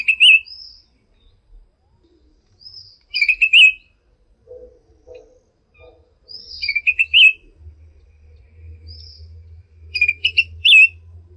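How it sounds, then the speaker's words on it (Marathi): A green forest bird of the Western Ghats sings clear, melodious phrases in short bursts, repeated several times over quiet forest background with a faint low hum. "पश्चिम घाटात जवळजवळ सर्वच जंगलामध्ये आढळणारा हा पक्षी त्याच्या सुरेल आणि स्पष्ट आवाजामुळे लक्ष वेधून घेतो."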